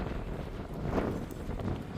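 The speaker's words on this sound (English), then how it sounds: "It's very windy" Steady wind buffeting outdoors at Rhodes Memorial in Cape Town, South Africa, a broad low rumble with gusty swells throughout, loud and close as if blowing across the microphone.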